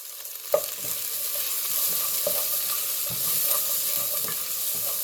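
About four cloves of crushed garlic fry on low heat in a pan for taco empanadillas, a steady close sizzle broken by repeated scraping stirs of a utensil across the pan, with no talking.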